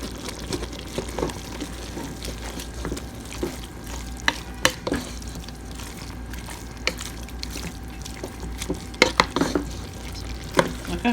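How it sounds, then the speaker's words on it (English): Meat and sauce base for lasagna being stirred in a pot, a low sizzle under repeated scraping and clanking of a spoon, with sharp knocks scattered throughout. "my meat and sauce base is gonna be super flavorful. So let me go ahead and mix this up"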